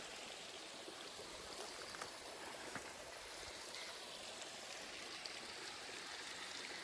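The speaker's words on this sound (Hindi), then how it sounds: "यहाँ से देखो पानी कैसे टपक रहा है" A forest stream on a jungle path, water trickling and dripping steadily at close range with an even, continuous wash and no voices.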